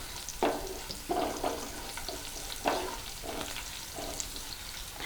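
Cut green chillies hit cumin frying in hot oil, setting off soft crackling sizzle bursts that rise and fall in a quiet, uneven rhythm with no voices.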